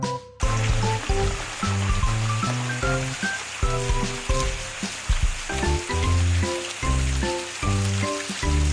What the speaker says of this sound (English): Rinse the teeth clean with a water gun.